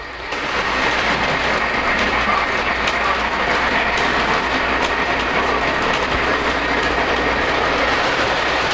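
A Polar Express model train runs along the track of a layout with elevated track sections, giving a continuous close rumble with faint rapid clicking from the wheels.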